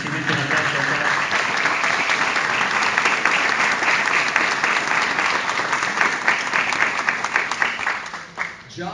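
An audience at a pastors' council gathering with the Billy Graham Association applauds for Chad, a dense, steady clapping that holds for several seconds before thinning out near the end.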